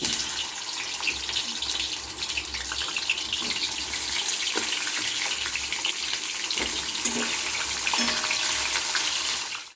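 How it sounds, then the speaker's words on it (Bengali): Fish pieces for a fish-head and lentil dish sizzle in hot oil, a loud, steady hiss of frying that runs unbroken from start to finish with no talking. "তেলটা হয়ে গেছে এবার আমি মাছগুলো দিয়ে দিচ্ছি"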